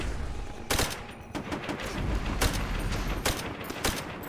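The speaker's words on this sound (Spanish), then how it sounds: "Tengo una ametralladora." Rapid machine gun bursts and scattered gunfire crackle through a Call of Duty: World at War battle, with sharp repeated shots at irregular intervals over a dense, noisy combat background.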